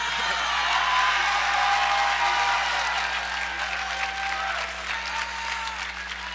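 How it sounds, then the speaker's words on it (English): An audience at the Chirpies awards gives a round of applause for two honorees, with steady, fairly loud clapping from a crowd throughout and no talking. "Can we give Will and Anna another round of applause"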